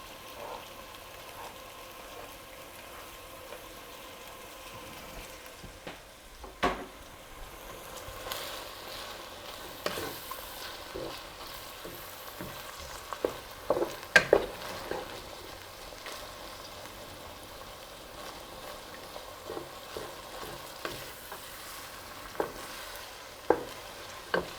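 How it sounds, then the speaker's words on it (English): Noodles are stirred in a pot for a beef noodle casserole: quiet, irregular scraping and clinking of a utensil against cookware over a soft low background, with sharper knocks scattered throughout and no talking. "Get over here and give my noodles a stir."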